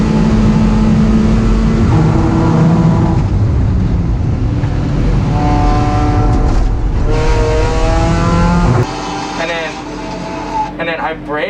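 A race car accelerates hard on the track at Sonoma, a loud engine heard from on board that climbs through the gears in rising sweeps, then eases off near the end with a voice talking over it.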